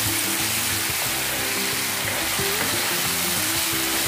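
Vegetables for a chickpea and Malabar spinach curry frying in a pan, a loud, dense, continuous sizzle with low stirring rumbles close by.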